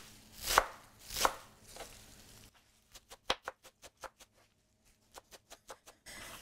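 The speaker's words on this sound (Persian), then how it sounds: "حالا من گشنیزم رو خرد میکنم" Fresh coriander being chopped with a knife on a board, two heavy strokes followed by a quick run of lighter, rhythmic taps, close and clear with no talk.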